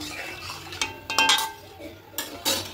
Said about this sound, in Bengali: কড়াই জল দিয়েছি, জলে সামান্য লবণ দিয়ে দেবো, দিয়ে খুব ভালো করে মিশিয়ে নেব